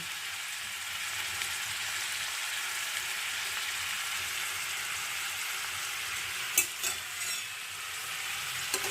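Chopped onions and dry red chillies shallow-frying in a pan, with a steady, even sizzle throughout and a few brief clatters of stirring near the end.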